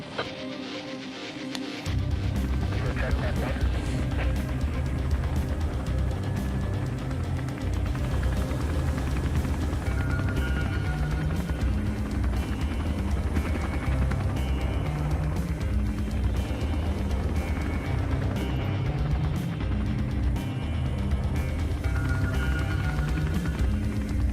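A rescue helicopter circles overhead at a snowmobile accident scene, its rotor and engine making a steady, unbroken droning hum that stays loud and even throughout, with no talk.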